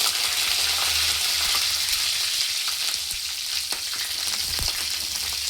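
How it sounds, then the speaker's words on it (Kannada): Mustard seeds, cumin seeds and curry leaves splutter in hot oil in a home kitchen, a loud, close frying hiss broken by sharp, irregular crackling pops, with no talking. "ಅರ್ಧ ಸ್ಪೂನು ಸಾಸಿವೆ ಹಾಕ್ತೀನಿ. ಚಟ್ರಪಟ್ರ ಅಂತಿದೆ."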